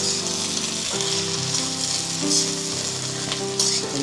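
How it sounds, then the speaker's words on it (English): Okra, also called bhendi or lady finger, stir frying in a kadai gives a steady, close sizzle and crackle throughout, with a few brief scraping stirs and no talk. "we'll just stir fry it"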